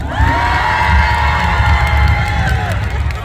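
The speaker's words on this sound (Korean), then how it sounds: "급하게 박수를 쳐주십니다" A packed outdoor crowd at a live concert at a Gumi community sports festival, applauding and cheering loudly in one continuous dense wash, with scattered shouts rising above the clapping.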